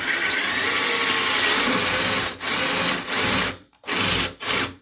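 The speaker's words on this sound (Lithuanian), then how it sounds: "Gręžiam toliau." A power drill bores into a gas silicate wall to fit a shower mixer. It whines steadily for about two seconds, then runs in three short, loud bursts with brief pauses between them.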